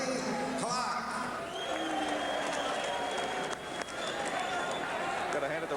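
Boxing arena crowd applauding and cheering for a ring official during the pre-fight introductions, a sustained, fairly distant wash of clapping with a ringside announcer talking over it.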